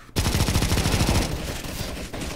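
Rapid automatic gunfire rattles loudly in CS:GO, a close, dense burst of shots that fades into lighter firing over a couple of seconds.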